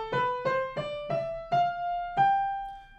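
Six ascending notes of a G Mixolydian scale ring out one after another on a sustained, plucked-sounding instrument, each note decaying before the next, with the final note held longest.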